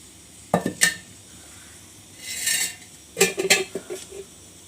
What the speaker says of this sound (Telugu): కడాయి పెట్టాను, పొయ్యి మీద పెట్టి ఏమో నూనె వేసుకుంటున్నా.